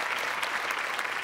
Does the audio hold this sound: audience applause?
yes